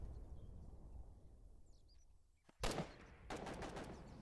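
Artillery gun firing in Foxhole: after a quiet stretch with faint birdsong, one loud close blast booms out, followed by a rapid burst of sharp cracking reports.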